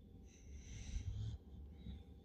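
A large dog snores faintly and up close, with a few wheezy, snorting breaths.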